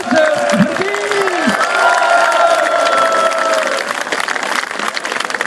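Crowd applause and cheering for player number 4, Spencer Verdien, at a Waasland-Beveren team presentation on the Grote Markt in Beveren; sustained loud clapping with scattered shouts throughout, with voices calling out early on.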